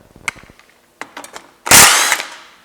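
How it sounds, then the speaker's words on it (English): A cordless impact tool works on a motorcycle muffler clamp during a touring muffler installation: a few sharp metallic clicks and taps come first, then a loud close rattling burst of hammering lasting under a second that fades with a few clanks. "you just can't beat a cordless impact tool for taking things apart"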